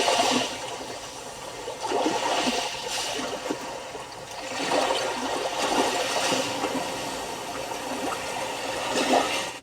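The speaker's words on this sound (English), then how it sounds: "Calming Sea Waves, or Calm Sea Waves." Calm sea-wave ambience plays through a 2020 Hyundai Sonata Limited's infotainment system as soft, surging wash and trickling water that swells and recedes in slow waves, at moderate volume with no talking.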